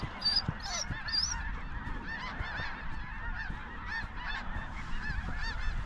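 A flock of snow geese, many of them juveniles, honking repeatedly in a North Dakota field in spring, overlapping calls from several birds over a steady outdoor background.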